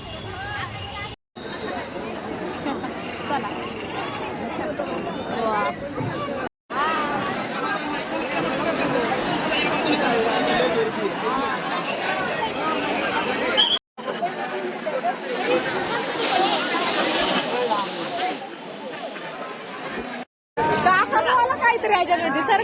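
A large, dense crowd at a palkhi procession, loud continuous chatter and babble of many voices close by, with brief cuts of silence between stretches.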